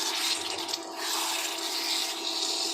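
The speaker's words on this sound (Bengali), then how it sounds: "হালকা আমি একটু জল দেব যাতে মশলাটা নিচে না লেগে যায়" A little water poured into masala cooking in a pan, a steady rushing splash and hiss that continues throughout without pause.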